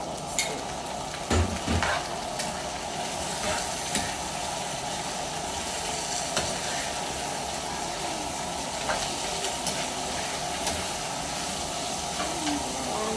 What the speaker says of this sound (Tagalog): Sunod po natin yung karne po na igigisa.